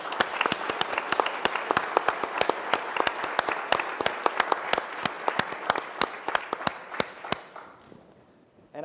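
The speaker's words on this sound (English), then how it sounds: "I'd like to give him a round of applause" Conference audience applauding at an education summit, a dense, steady wash of many hands clapping close and loud for about seven seconds before tapering off into quiet.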